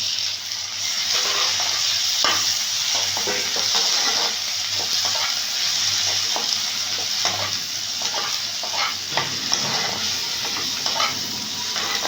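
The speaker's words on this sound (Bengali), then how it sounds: "পেঁয়াজটা ভাজা ভাজা হয়েছে এবার টমেটোটা দিয়ে দেবো" Onions fry in a pan for a dried-fish curry, a steady loud sizzle broken by repeated stirring scrapes and clicks of a spatula, close up with no voices.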